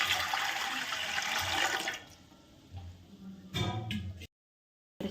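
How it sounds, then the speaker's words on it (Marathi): Water pours into a container in a kitchen, a loud steady splashing rush that softens, surges briefly again, then stops. "तर इथं आधी पाणी टाकून घेते मी"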